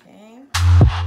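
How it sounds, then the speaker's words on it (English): Cold tap water runs loudly over an onion in a kitchen sink, a steady broadband rush starting abruptly midway with brief splashy changes as the onion is moved under the stream, after a faint quiet stretch. "if you run it under cold water,"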